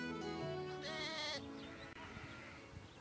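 Sheep bleat out on a hillside, with herding by a sheepdog, a long wavering bleat standing out among several overlapping animal calls, fairly close and clear, with no talk over them.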